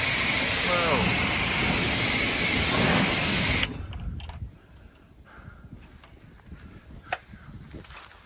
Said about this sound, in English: Sorry, I had to adjust the sprayer.